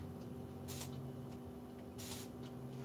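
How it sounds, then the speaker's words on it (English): Two short hissing sprays from a spray paint can, about a second apart, over a quiet steady hum. "Gonna spray a little bit more."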